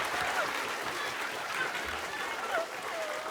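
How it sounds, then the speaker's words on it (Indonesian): Studio audience at a television comedy show applauding, a soft, steady patter of many hands at moderate distance lasting a few seconds, with light voices mixed in. "kita berikan tepuk tangan untuk Mas Desi, Mbak Nunung sama Mas Bogong"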